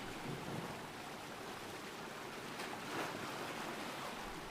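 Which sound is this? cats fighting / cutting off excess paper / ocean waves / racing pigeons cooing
ocean waves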